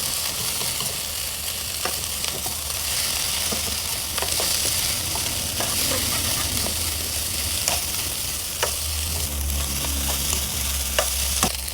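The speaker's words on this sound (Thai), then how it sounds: "จากนั้นเราก็จะใส่เนื้อปลาเค็มลงไป ผัดผัดคลุกเคล้าให้เข้ากัน" Rice is stir-fried with Chinese kale and salted fish in a wok, giving a steady loud sizzle with repeated scraping and clanking spatula strokes, close up throughout with no talking.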